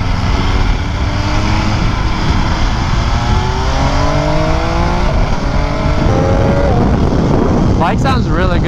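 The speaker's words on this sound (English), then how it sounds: "Bike sounds really good. Like it has a nice tone." MV Agusta F3 RR sport motorcycle engine on a ride, loud and close with wind rush, rising rev sweeps through several gear changes and a burst of revving near the end.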